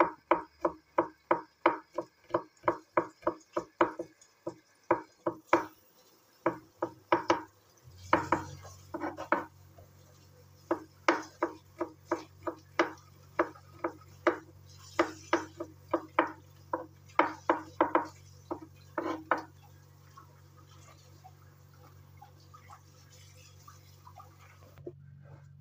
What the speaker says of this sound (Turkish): şimdi sarımsaklarımızı doğrayalım içine.